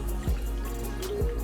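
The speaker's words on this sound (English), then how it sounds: "I'm gonna put 2 cups this time of vegetable broth." Vegetable broth poured into a pot of hearty vegan soup with beer and spices, a soft liquid trickle with two quick gurgling drips, close and quiet, no talk.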